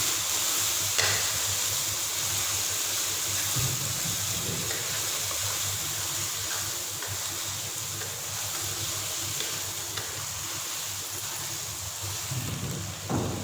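Spices for aloo gobi fry in oil in a pan, a steady low sizzle with faint stirring scrapes running throughout, no voices.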